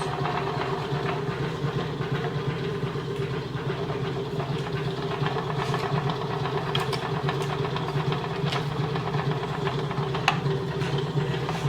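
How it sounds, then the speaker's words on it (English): An old Maytag washing machine motor runs steadily with a continuous low hum and mechanical rattle, holding an even level throughout with faint clicks on top. "Well, the motor turns."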